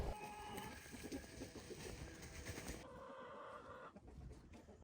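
Hens clucking and a rooster calling on a farm as the rooster chases the hens off, a steady busy flock sound with scattered squawks, fairly close, without speech.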